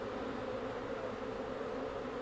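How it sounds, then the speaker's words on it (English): A dense, continuous buzzing drone of swarming bees at a bee farm, steady and fairly loud throughout with no voices. "He's standing in the middle of swarming bees this morning."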